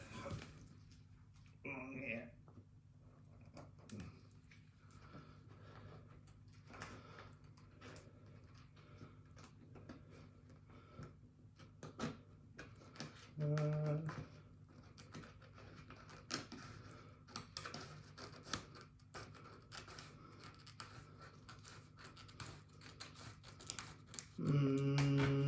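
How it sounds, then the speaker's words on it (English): Dressmaking scissors slide through plastic window-insulation film, giving a long run of quiet rasping and snipping with clicks and rustles, and brief tonal squeaks of the film, with no talk. "You'll find you hit a sweet spot sooner or later on the scissors, and you'll be able to ride them along for a while."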